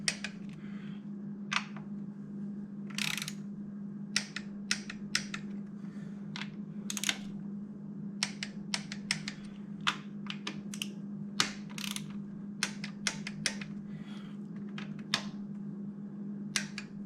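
A torque wrench tightens valve cover bolts on a 2006 Toyota RAV4 2.4L engine, giving scattered sharp ratcheting clicks in irregular bursts over a steady low hum.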